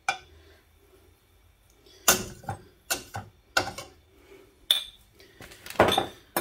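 Bacon grease scooped into a cooking pan with a metal utensil gives sharp clinks and scrapes in several separate bursts, close and fairly loud, with quiet pauses between them.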